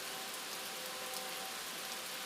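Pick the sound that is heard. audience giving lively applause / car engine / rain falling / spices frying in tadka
rain falling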